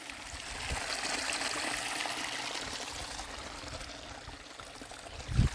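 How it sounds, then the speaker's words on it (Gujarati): A stream trickling off a ridge runs steadily into a village pond, a continuous broadband rush of flowing water with no voices. "આ ધારમાંથી પાણી નીતરીને ઝરણું આવે છે અને જાય છે તળાવમાં."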